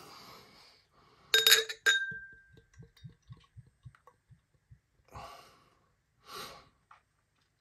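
A bottle of Paulaner Munchner Hell lager clinks against a glass, then the beer pours in a quiet glugging rhythm of small regular pulses, close and faint, with a couple of breathy rustles afterward.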